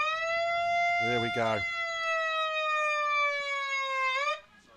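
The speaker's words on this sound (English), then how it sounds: "I think that was the siren." A steady, loud electronic siren sounds at three-quarter time at a Papua New Guinea versus Ireland men's football match, holding one tone for about four seconds before cutting off, with a voice speaking briefly over it.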